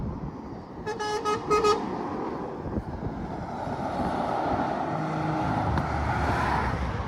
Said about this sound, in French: on a aussi le retour des camions qui klaxonnent